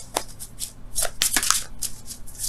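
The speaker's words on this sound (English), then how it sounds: "we could have known another card for that" Tarot cards are shuffled by hand in quick, crisp riffles and slaps, close up, with irregular flurries of papery flicks and no voice.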